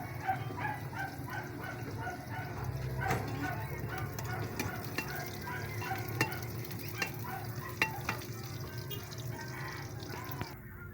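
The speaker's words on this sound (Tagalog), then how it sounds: "ito po nagigisa po ng sibuyas at bawang" Onion and garlic sauté in a pan with a steady, close sizzle, and a utensil stirs and scrapes through it in irregular clicks and taps for the whole stretch, with no talking.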